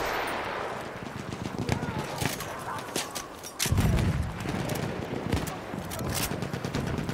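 Machine gun fire in the Battlefield 1 video game crackles in rapid bursts, some near and some farther off, with a heavy blast partway through. A player talks over the shooting.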